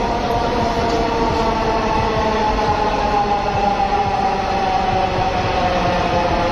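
Bangladesh metro rail train running, a loud continuous roar of wheels on track with a steady hum, close and unbroken for the whole stretch.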